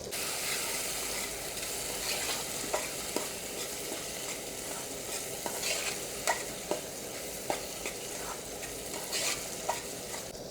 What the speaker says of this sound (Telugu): ఇప్పుడు వెంటనే టమాటా ముక్కలు కూడా వేసేద్దామండి చిన్న చిన్న ముక్కలుగా కోసుకున్నాయి ఇవి వేసి ఇవి కూడా మగ్గిన తర్వాత